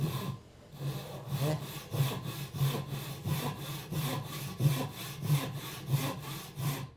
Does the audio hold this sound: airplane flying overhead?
no